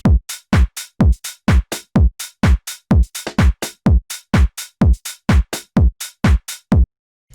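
Tech house drum beat with a punchy four-on-the-floor electronic kick driving steadily, bright hats and percussion hits filling the gaps in a tight, loud, repeating groove.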